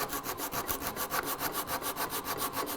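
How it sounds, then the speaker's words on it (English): Coarse side of a sanding block rubbed back and forth over wood, a steady run of even, rasping strokes about five or six per second, close and alone. "So I can take my sanding block and use the coarse side,"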